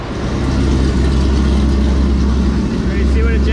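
A 2014 Ford GT500 engine running on a dyno, a loud, steady, close drone of the engine under load that holds throughout.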